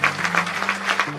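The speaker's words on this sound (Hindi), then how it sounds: "जरा इनके नाम पे एक बार जोरदार ताली लगा दो।" Audience at a university self-reliance campaign event claps in a brief, loud burst of applause, with the dense clatter of many hands rising and falling over about a second.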